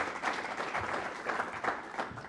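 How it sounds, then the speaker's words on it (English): Audience applause at the Murdoch PITCHFEST 2021 pitching event, a moderate steady patter of clapping heard fairly close for a couple of seconds. "Round of applause again for James."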